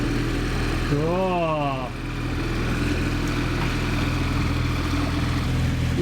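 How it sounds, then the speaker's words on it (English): Two boat motors run together in a steady, loud droning hum, with a brief rising-and-falling whine near the start and a short spoken exclamation over the engine noise. "look at both motors are turning"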